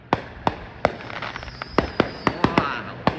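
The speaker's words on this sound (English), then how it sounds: "Listen, fireworks," New Year's fireworks burst in a rapid irregular series of sharp cracks and pops, about a dozen loud reports with crackling tails, some echoing in between.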